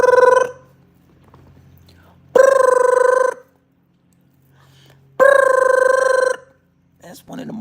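An old-style telephone bell rings in three loud, evenly spaced bursts of about a second each, with near silence between them and a faint short sound at the end.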